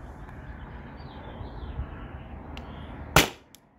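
A single sharp crack from an S2 air gun firing a 9.8-gram PVC-coated steel ball rings out near the end, loud and close, after a steady low hiss with no talking.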